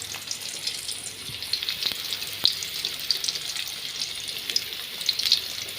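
Onions frying in hot oil with mustard seeds, fenugreek, cumin and pepper give a steady, moderate sizzle with faint crackles and a few soft clicks, close by and without speech.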